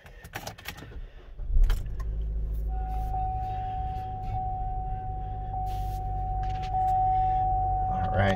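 A 2015 Chevy Trax with key jingling and a brief starter crank, then the engine catches and settles into a steady, smooth idle hum close by, with a faint tone running over it and a voice speaking at the start.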